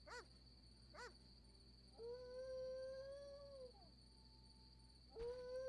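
A dog in The Witcher video game gives two short yelps followed by two long, mournful howls, alone over a quiet background hum.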